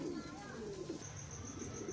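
Pigeons in a breeding setup coo softly in the background, low rolling calls repeating a few times, with a faint high tone and people talking quietly nearby.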